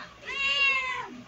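A cat gives a single clear, drawn-out meow at close range, rising and then falling over about a second.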